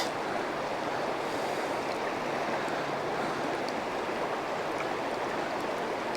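Steady broadband rush of river water flowing over a deep fishing hole, a constant near wash with no voices.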